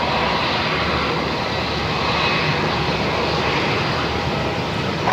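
A Qantas Link Boeing 717 jet takes off from runway 34 at Melbourne Airport, its steady, loud engine roar holding throughout with no voices over it.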